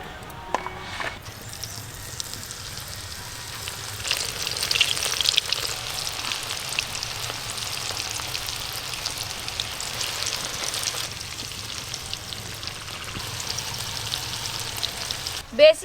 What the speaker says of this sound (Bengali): একদম কম আঁচে গুড়গুড় করে ভাজা করছি